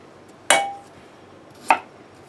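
A knife slices fresh ginger an eighth of an inch thick on a cutting board, giving two sharp, close cuts about a second apart with quiet between them.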